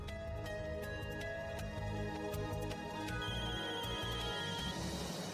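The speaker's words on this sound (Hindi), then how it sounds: "प्लीज इस बार रक्षित भैया को फोन उठाने दो।" A telephone rings steadily in a repeating electronic ringtone pattern, fairly loud and continuous, with no voices.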